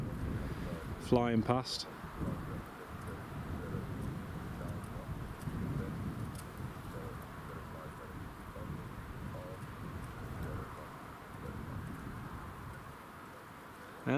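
Gusty wind roars across the microphone at an airport on a blustery day, a steady broadband rush that carries on almost unbroken, with brief speech near the start.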